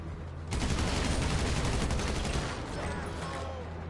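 Special carbine assault rifle in GTA firing a sustained automatic burst of dense, loud, close gunfire that tapers slightly toward the end.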